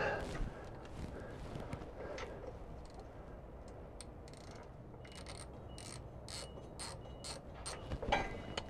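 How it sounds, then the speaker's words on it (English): Ratcheting 10 mm wrench loosening a bracket while fitting an exhaust on a Mercedes, faint quick clicks in short bursts, growing busier toward the end. "you're also going to remove this bracket with the 10 millimeter"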